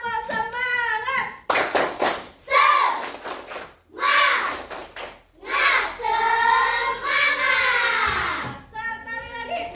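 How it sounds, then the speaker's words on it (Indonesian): Schoolchildren in a classroom perform a rhythmic group clapping chant, with bursts of sharp, patterned claps alternating with loud chanted voices, close and lively. "Tepuk semangat."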